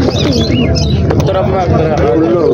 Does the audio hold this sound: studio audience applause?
no